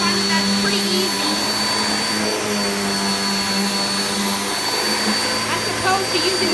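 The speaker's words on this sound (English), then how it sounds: "Now what I do here is I just pick the whole thing up and go on the couch, vacuum it like that." Hoover Nano Cyclonic upright vacuum cleaner lifted and run over a couch, a loud steady motor whine with a constant drone, close and continuous throughout.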